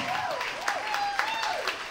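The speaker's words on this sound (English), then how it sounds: "Let's give you a round of applause" An audience applauds at a burlesque and cabaret curtain call in the Peacock Lounge, Leicester, a steady clapping bed under a voice and sustained musical tones.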